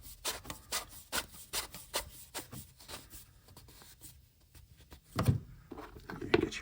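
By hand, an oil filter cap is screwed back into a 2023 Hyundai Elantra, producing soft, irregular rubbing and scraping that is faint and close, with a couple of light thunks near the end.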